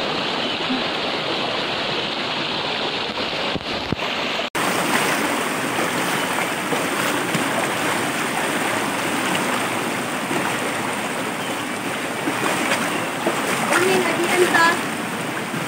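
Steady rushing water flows nearby at a hot spring in T'boli, Philippines, a continuous splashing stream with a brief dip partway through.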